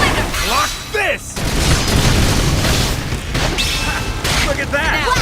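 A flame grenade in the Xenoblade Chronicles X video game explodes in heavy, booming bursts amid rapid combat effects, with in-game voices shouting over the blasts.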